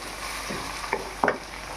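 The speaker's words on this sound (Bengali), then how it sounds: "একটু নেড়ে চেড়ে নিলাম" Chhatu and ridge gourd are stirred in a kadai over a soft, steady frying sizzle, with a few brief scraping strokes of the spoon standing out near the end.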